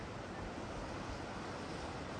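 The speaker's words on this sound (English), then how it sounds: "You see where the waves are coming in down the end there" Steady broadband roar of surf rolling onto a beach where a rip current runs, continuous and fairly faint with wind noise mixed in and no voices.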